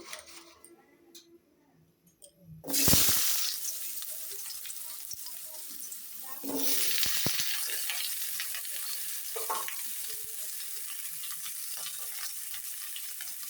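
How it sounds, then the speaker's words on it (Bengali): Potatoes dropped into a hot wok for a fish curry burst into loud sizzling, then keep frying with a steady crackle and occasional ticks and spatters, close and without talk. "প্রথমে আমি আলুগুলো ভাজি করে নেব।"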